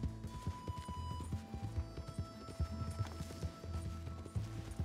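Horse hooves clip-clop in Red Dead Redemption 2, a steady run of close, loud thuds over busy game music and ambience, with no talk.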